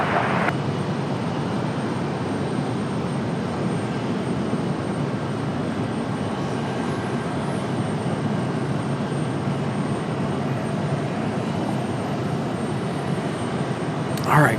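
A Copa Airlines Boeing 737 MAX 9 jet approaches Raleigh-Durham airport, a loud, steady broadband roar that holds almost unchanged for the whole stretch.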